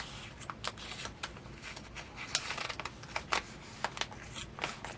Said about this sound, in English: So let's cut that piece out.